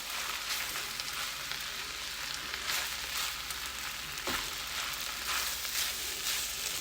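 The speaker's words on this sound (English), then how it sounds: "You make sure you go around your pan or your wok. Scrape all those grains off the side." Fried rice sizzles steadily in a hot wok while a utensil stirs and scrapes grains off the sides, making a continuous frying hiss with occasional scraping knocks and no talking.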